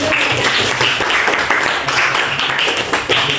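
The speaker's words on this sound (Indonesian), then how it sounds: "Silakan tepuk tangan untuk temannya." Students in a classroom clap steadily for a classmate, a dense, even burst of many hands held at a constant level for several seconds, with no talking over it.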